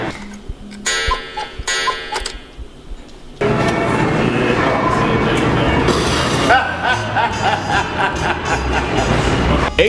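A subway train runs with a loud, steady rumbling roar that starts abruptly after a few quieter seconds of ringing, tonal station noise, then continues close and heavy to the end.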